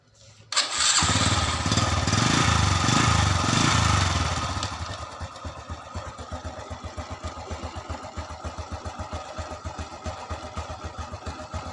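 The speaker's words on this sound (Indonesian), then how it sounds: "kita nyalakan motornya dulu dan kita setel anginnya" A standard motorcycle engine is started and revs loudly for a few seconds, then settles into a steady, rapid idle putter close by.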